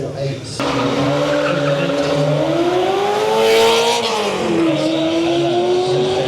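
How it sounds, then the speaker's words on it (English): A Ferrari engine screams at a hill climb race, revving up to a loud, rising high-pitched wail close by and then easing off, with tire squeal and a voice talking over it. "this Ferrari sounds so good"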